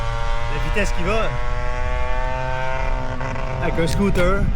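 A modified scooter's small engine with two mufflers drones loudly and steadily, its pitch shifting as it revs, with a person talking over the noise.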